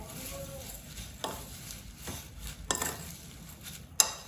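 Methi muthiya dough being mixed with white sesame seeds in a bowl, soft irregular scraping and stirring with light clinks of utensil against the vessel and a sharp knock at the end, quiet and close.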